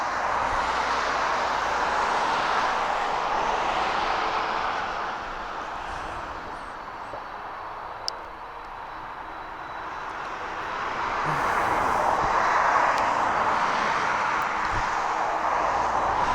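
A DHL Boeing 757 cargo jet at East Midlands Airport at night, its engines a sustained, distant roar that dips for a few seconds and then swells again, with no voices.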